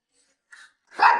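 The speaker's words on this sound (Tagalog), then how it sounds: "Kanino tong aso?" A dog gives a single close, loud bark after a faint short yelp, with no talk over it.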